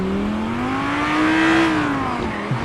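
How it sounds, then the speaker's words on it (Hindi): A sports car's V10 engine revs loud and close, its tone rising smoothly, cresting, then falling away, with no talk over it. "बॉय V10 इंजन है इसके अंदर।"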